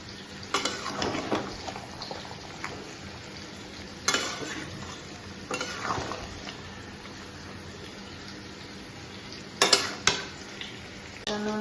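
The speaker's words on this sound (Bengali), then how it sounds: "মটনটা চাপিয়ে দিয়েছি পাশে আলু ভাজা হচ্ছে আর মটন হচ্ছে এই যে মটনটা শুধু কষানো হচ্ছে" Marinated mutton stir-fries in a pot while potatoes fry alongside, a soft continuous sizzle broken by several louder bursts of stirring and scraping at intervals.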